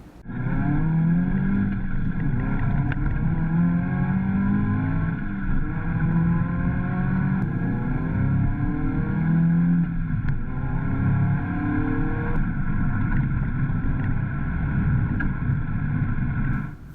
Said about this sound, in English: So now it's time to take the car for a ride.